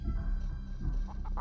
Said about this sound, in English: Oh, it's little baby chickens.